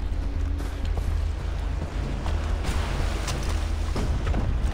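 A patrol boat in Far Cry 3 runs past on open water near a ship, its steady engine drone blending with wind and sea wash, loud and continuous with no speech.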